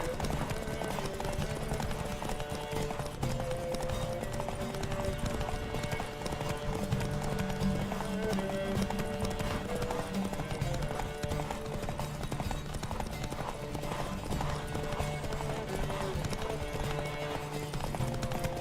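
Hooves clip-clop rapidly and continuously as a horse gallops in The Witcher 3, the rhythm steady and busy against a dense mix of other game sounds.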